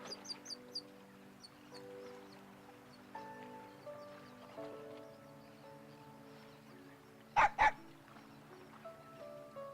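A dog in the fighting game Persona 4 Arena Ultimax gives two sharp, loud barks in quick succession, set against a quiet sustained musical background with faint chimes.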